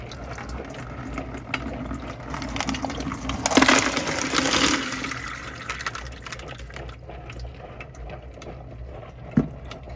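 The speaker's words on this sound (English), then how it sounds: "Let's rinse them off a little bit." Tumbled peach and green aventurine stones are rinsed with water, a clattering rattle of stones under splashing and pouring water that swells in the middle and then fades, ending with one sharp knock.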